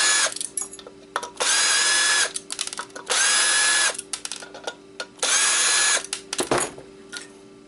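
A power screwdriver unscrews the board from an Xbox hard drive in loud bursts of about a second each, four runs broken by short ratcheting clicks and handling noises, with no talking.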